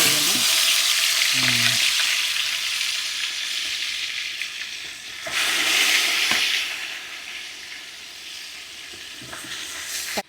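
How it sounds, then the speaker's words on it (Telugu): Marinated chicken, about one and a half kilos for a dum biryani, sizzles and fries loudly in hot oil, a steady hiss that swells again midway with stirring scrapes. "ఇందాక మనం థర్టీ మినిట్స్ మ్యారినేట్ చేసుకున్న చికెన్ని ఆయిల్లో ఆయిల్లో వేసేద్దాం"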